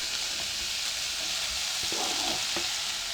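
Tomatoes and garlic fry in a pan with a constant hiss of sizzling, broken by a few scraping stirs of a utensil, close and fairly quiet, with no talking.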